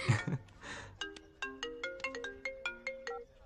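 A phone ringtone plays a bright, repeating electronic melody of quick plucked notes in a steady rhythm, right after a short burst of speech at the start.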